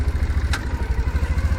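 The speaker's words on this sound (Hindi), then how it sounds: "थोड़ा सा आहिस्ता आहिस्ता जाएगी बाइक" A motorbike chugs along slowly in heavy traffic in Doha's West Bay area, its engine pulsing in a steady low throb with one brief clatter partway through.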